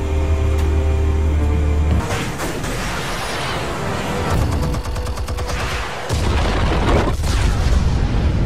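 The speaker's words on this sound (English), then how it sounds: "Explosives armed. Fire when ready." Explosives detonating in Batman: The Telltale Series, a loud blast that breaks over a low droning hum, then a thick wash of crackling, rumbling debris with a second burst near the end, and no one talking.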